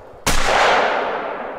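A single loud shotgun blast of buckshot in theHunter: Call of the Wild lands with a sharp crack close by, then leaves a long, broad echo that fades slowly across the open hunting ground.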